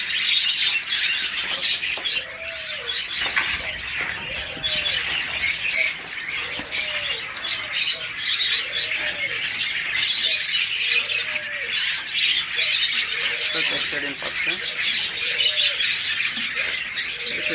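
Budgerigars, forpus parrotlets and lovebirds chirp and twitter densely together in a pet bird shop, a constant bright chatter with a softer, regularly repeating coo-like call beneath it.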